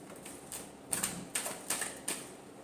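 Tarot cards being shuffled in a short burst of sharp, evenly spaced clicks and snaps, about five distinct taps over a couple of seconds, close and fairly clear.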